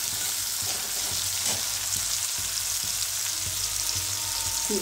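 Onion and spices sizzle steadily in hot oil in a pan, a close continuous hiss with occasional stirring taps, for a Bengali fish-head kalia.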